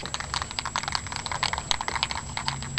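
A spray can of primer paint being shaken rapidly, used while restoring an old Simplicity tractor with a Briggs & Stratton engine; a dense, continuous run of rattling clicks close by, steady and without pause.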